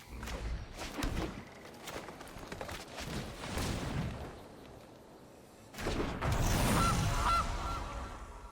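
Cartoonish goose honks from a green/red card video game burst out in loud clusters over game effects and bangs, with a lull before a dense, sustained final burst.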